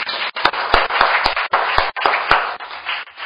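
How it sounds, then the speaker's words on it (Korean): Audience applause for former chairman Lee Bu-young at a seminar on Korea-US-Japan military cooperation and Northeast Asian peace. The clapping is dense and sustained and fills the room, with a few sharper individual claps standing out. "다시 한번 우리 이부영 전 의장님께 큰 박수 부탁드리겠습니다"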